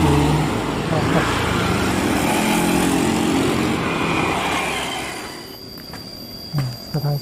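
A freight train, an empty cement service, rolls past near the exit signal outside Bumiayu station in Indonesia, a loud sustained rumble of wagons and wheels that fades toward the end, with a few brief sounds after it passes.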